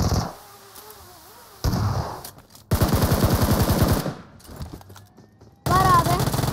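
Gunfire in the video game PUBG Mobile, with rapid automatic bursts and shorter volleys broken by gaps, loud and close, while voices talk over parts of it.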